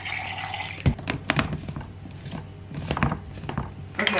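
Water poured into a Nutribullet Pro blender cup holding soy protein, blueberries, ice and milk, a close, soft splashing stream with small knocks, heard alone without talk.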